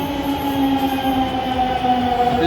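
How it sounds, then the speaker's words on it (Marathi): A Delhi Metro train pulls into a station platform, a steady mechanical hum with sustained tonal whine layered over rumble, loud and close throughout with no talking. "आपली मेट्रो आली आहे, त्याच्यामध्ये बसायचं आपल्याला."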